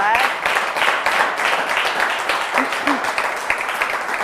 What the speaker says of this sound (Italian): Facciamo un applauso a Nunzio.